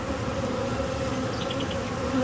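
A honey bee swarm gathers around a bucket, giving a dense, continuous buzzing drone close by with no voices.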